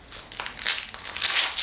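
Plastic packaging of an Israeli bandage crinkles and crackles as it is handled close up, in several irregular crunchy bursts with no talking.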